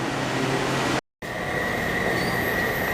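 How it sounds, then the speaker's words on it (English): A metro train arriving at a station rumbles and hisses loudly along the track, with a steady high whine, broken by a brief moment of silence before the roar resumes. "Not my train."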